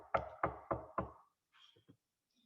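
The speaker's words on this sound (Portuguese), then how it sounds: "alguém bateu à porta gritando" Four loud, evenly spaced knocks on a door come first, followed by a few fainter taps and scrapes, close by with no voices.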